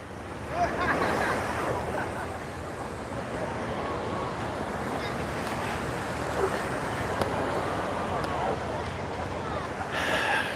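Surf washes steadily onto Waikiki Beach in Hawaii, a continuous broad rush of waves with gusts of wind on the microphone and faint crowd babble in the background.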